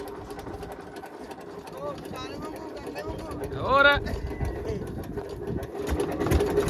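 A tractor engine runs in a steady low rumble throughout, with people talking over it at close range.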